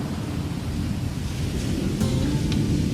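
Sea waves wash against the shore beside a cottage on the Isle of Skye, a steady broadband roar mixed with gusty wind buffeting the microphone, with no voices.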